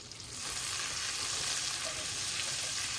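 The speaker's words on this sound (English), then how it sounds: "I'm just getting this butter melted." Butter melting in a pan to start a roux for gravy gives a steady, close, soft sizzle with a fine crackle that rises after a quiet first half-second and then holds evenly, with no talk.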